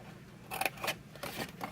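Scissors make a few quick, close snips through paper while crafting a tall berry box with Stampin' Up! products, short crisp cuts in an uneven rhythm.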